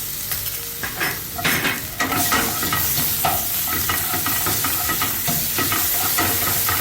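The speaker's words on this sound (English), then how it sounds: "We're going to add in our onions and fry until they are a bit translucent." Onions sizzling with ginger and garlic paste in a pan for coconut butter chicken, a steady close frying hiss broken by stirring scrapes, no talk.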